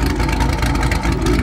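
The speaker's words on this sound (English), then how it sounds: "when I tell you this car sounds insane, listen to this idle" A Dodge Challenger Scat Pack with a 448ci stroker engine idles loud and deep with a rough, lumpy rumble, steady and close, with no other sounds over it.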